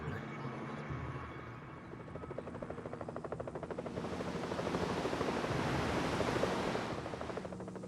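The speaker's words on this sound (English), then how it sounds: "The helicopter just was just here." A helicopter in the video game Evil Genius sounds as a steady rotor chop that swells louder over the second half, with a broad whooshing wash over low game ambience.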